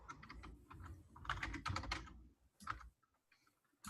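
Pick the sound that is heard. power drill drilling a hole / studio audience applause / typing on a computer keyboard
typing on a computer keyboard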